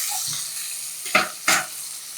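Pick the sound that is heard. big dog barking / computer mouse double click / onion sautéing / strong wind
onion sautéing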